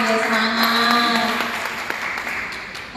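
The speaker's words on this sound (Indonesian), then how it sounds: "boleh tepuk tangan dulu lah, biar semangat" Audience applause at a regent candidates' debate in East Sumba, a brief burst of clapping under a loud voice that fades after a couple of seconds.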